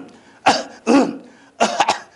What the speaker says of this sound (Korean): 여러분들 흔히 하는 마른 기침.